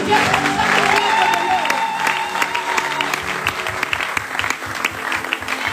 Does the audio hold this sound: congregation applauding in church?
yes